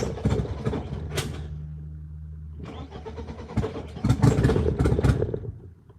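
A BMW E36 with an M42 engine on a Microsquirt ECU, running rich, cranks and catches up close, settling into a rough idle before the revs rise and surge near the end. No voices.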